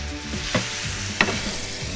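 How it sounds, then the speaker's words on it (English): A pork chop sears in a hot oiled pan with a steady close sizzle and crackle, broken by a couple of sharp clatters as it is moved or turned. "So I'm just searing up the pork chop on either side to retain all the juices inside."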